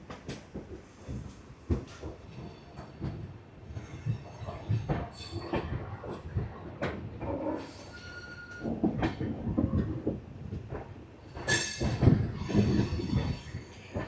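Kolkata Sairang Express train rolling along the rails near a station on a hill route in Assam, a steady rumble with rhythmic wheel clacks and occasional squeals, close and continuous throughout.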